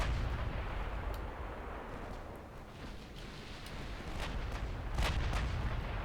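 Warship gunfire in a World War II naval video game set during Operation Husky: a steady, loud rumbling barrage of overlapping cannon blasts, with sharper reports standing out near the start, in the middle and toward the end, and no voices.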